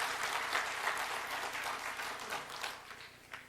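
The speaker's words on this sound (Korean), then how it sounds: "잠깐 일어나시면 우리 박수 한번 하겠습니다." A church congregation applauds during a Sunday worship service to welcome returning missionaries, steady moderate clapping throughout, somewhat distant and even.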